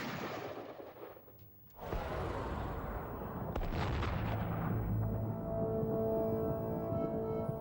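A single booming musket shot from a Civil War reenactor's percussion-cap firearm, loud and close, cracking out after a brief lull and trailing off into a long rumbling echo.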